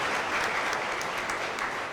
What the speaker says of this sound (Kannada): ನಿಮ್ಮೆಲ್ಲರ ಚಪ್ಪಾಳೆಯೊಂದಿಗೆ ಸುಸ್ವಾಗತವನ್ನು ಕೋರ್ತಾ ಇದ್ದೇನೆ